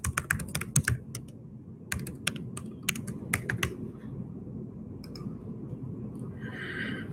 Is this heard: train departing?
no